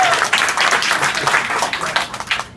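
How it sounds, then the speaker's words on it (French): Concert audience applauding for a performer at a show in Taipei, a dense burst of many hands clapping at close range, steady and loud before fading out at the end. "on l'applaudit"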